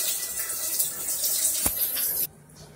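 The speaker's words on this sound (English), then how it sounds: "So I'm going to add 1 more cup of water." Water poured from a cup into thick conch fritter batter for Belizean fritters, a steady splashing trickle for about two seconds that cuts off abruptly.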